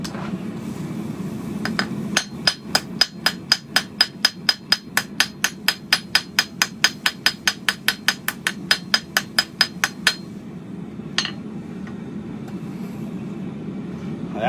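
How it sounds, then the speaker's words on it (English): A rapid, steady series of sharp metallic ball peen hammer strikes on metal rings out, around thirty blows in a row, then a final lone tap after a pause. "Grab my other hammer here so I can use the ball peen."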